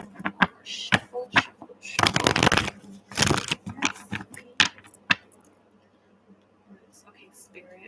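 A deck of tarot cards is shuffled by hand during a reading, with rapid riffles and sharp card snaps in bursts, a louder stretch midway, then tapering to faint handling.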